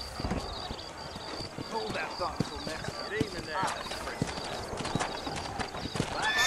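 Horse hooves clip-clop steadily in Red Dead Redemption, with a whinny breaking through. A voice speaks over the mount-up and trail riding, and game music and effects sit beneath.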